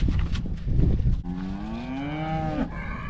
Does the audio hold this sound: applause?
no